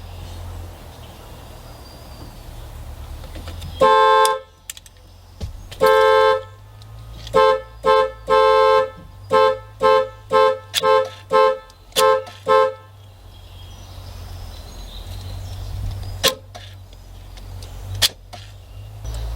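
A Dodge Dakota pickup's car alarm sounds close and loud: a series of sharp repeated horn honks in an uneven then steady rhythm, about a dozen blasts, over a low idling rumble, then stopping.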